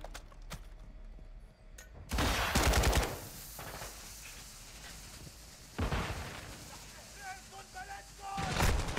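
Bursts of RPK machine gun fire in the Call of Duty: Modern Warfare II campaign, loud rattling volleys in three or four separate strings, with game effects and quieter stretches between.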